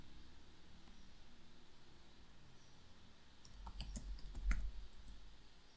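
Soft clicks of a computer keyboard as a sentence is typed, quiet at first, then a denser burst of sharper keystrokes over a faint background hiss.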